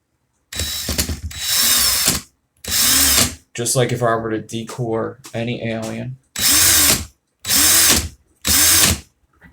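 Cordless power drill spinning in reverse to loosen razor wire, heard in several loud, separate bursts of whirring with ratcheting, with someone talking in a short gap between them.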